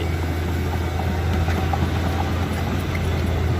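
A Zoomlion ZE220E-10 excavator with a 166 hp turbocharged Cummins engine and Rexroth pump runs with a steady, close, continuous low drone and engine hum, without talk.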